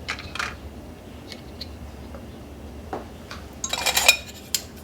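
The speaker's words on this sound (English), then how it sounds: "And then we are going to add our lids." Metal canning lids set onto filled glass jars for home-canned masala, a few sparse light metallic clicks and clinks near the mic, ending in a short cluster of bright rattling taps.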